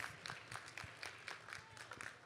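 Scattered clapping breaks out for an eighth-grade graduate walking up at a school commencement ceremony, a light, uneven patter of hands from a small crowd, fairly faint.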